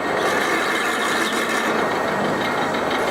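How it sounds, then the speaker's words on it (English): A drill bit boring a short relief hole into metal at raised speed, giving a steady, continuous grinding whir with a high squealing edge, close and loud, with no pauses. "This drill goes in."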